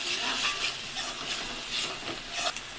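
A chicken curry is stirred in a pot after coriander and mint go in, giving a steady, fairly loud scraping and sizzling that runs the whole time with small rhythmic surges from the spoon.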